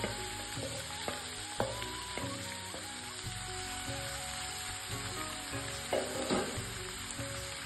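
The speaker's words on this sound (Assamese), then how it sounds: "এতিয়া মেৰিনেট কৰি থোৱা মাংসখিনি দি লৈছোঁ।" Marinated duck meat goes into a pan of fried onion, ginger and garlic over a medium gas flame for an Assamese duck curry, giving a loud, steady sizzle with stirring clatter.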